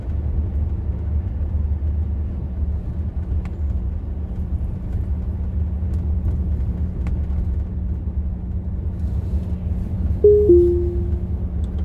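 A Viação Amarelinho intercity bus running on the road between Ituiutaba and São Paulo, heard from inside as a constant low engine and road rumble, with a brief horn-like tone near the end.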